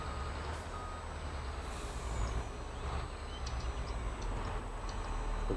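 A truck backs up toward a gooseneck trailer, its reversing alarm beeping in a steady, faint, repeating rhythm over low engine rumble outdoors.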